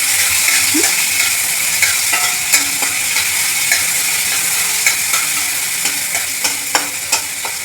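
Green chillies frying in warm ghee make a loud, close, continuous sizzle and crackle, broken by repeated light scrapes of a spoon stirring the pan.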